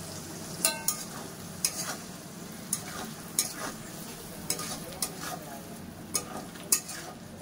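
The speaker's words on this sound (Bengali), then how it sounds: "এটা ভালো করে কষে নিচ্ছি।" Potatoes being sautéed with ground spice paste in a pan for Bengali-style paneer masala without onion or garlic: a soft sizzle runs underneath while a utensil scrapes and taps at a steady, uneven rhythm, close by with no talking.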